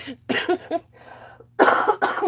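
A person coughs in a few harsh, close bursts, with short gaps between them and a louder pair near the end.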